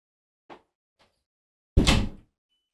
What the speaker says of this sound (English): I'm going to close the door now